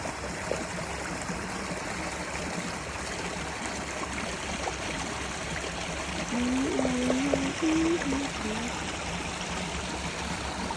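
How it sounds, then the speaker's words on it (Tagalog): River water flows steadily in a broad, even wash throughout, close and continuous, with a brief faint whistle-like tone partway through. "Ang ganda pakinggan yung agos ng tubig."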